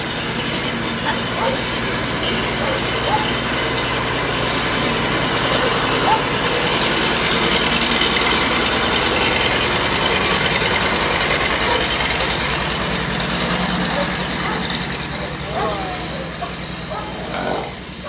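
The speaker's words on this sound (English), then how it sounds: "Wait the tractor out a little bit." A tractor engine idles steadily nearby in a horse yard, a continuous low rumble with a faint mechanical hum holding at an even level, with quiet voices and occasional small noises.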